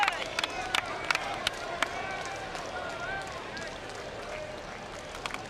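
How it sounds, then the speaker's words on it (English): A crowd cheers from the stands at a college baseball game, the 2000 Men's College World Series final between LSU and Stanford. A steady roar of voices carries scattered claps and whoops. "Justin Wayne's parents cheering in the stands."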